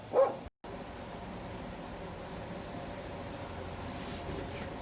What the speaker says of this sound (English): The barking. I guess she's a good guard dog.